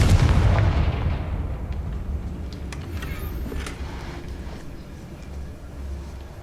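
A Confringo explosive spell blast in a video game, set in a hidden wine cellar, starts as a loud booming burst. Its deep rumble then fades slowly over several seconds.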